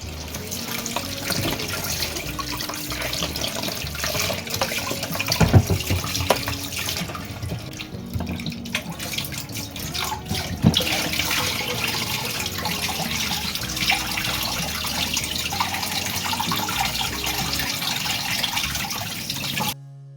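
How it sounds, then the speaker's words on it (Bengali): Tap water runs into a sink as large mangoes are washed, a loud, continuous splashing stream with occasional knocks and clatters of fruit, no talking. "সব আমগুলো খুব ভালো করে ধুয়ে নিচ্ছি"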